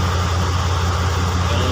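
A ship's main engine runs steadily on a standby vessel, a loud continuous low rumble with a constant drone and no breaks.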